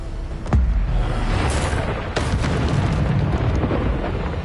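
Bombarda spell explosions in Hogwarts Legacy: a few sharp booming blasts at intervals over a dense rumbling combat background, loud and close.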